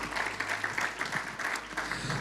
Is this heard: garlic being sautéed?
no